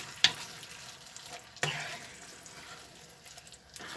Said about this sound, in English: we'll combine all that together and we'll reduce it to a simmer